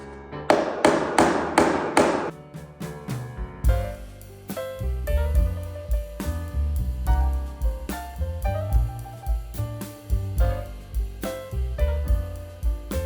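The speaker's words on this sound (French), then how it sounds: "Là, je vais clouer dans la rainure." Nails are hammered into the groove of solid wood floorboards laid on joists, sharp close hammer blows in quick rhythmic bursts of several strikes, then continuing taps and knocks with some ringing resonance, no voices.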